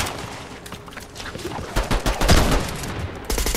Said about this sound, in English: Just keep shooting, just keep shooting.